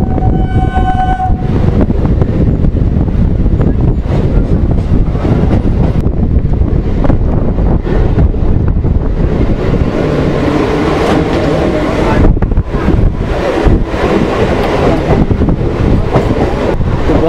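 Bangaon local train pulling out of Sealdah: a horn blast at the start, then a loud, steady rumble and clatter of wheels and carriages with wind buffeting the microphone throughout.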